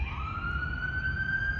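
An emergency vehicle siren wails close by with a clear, steady rising tone over low traffic rumble.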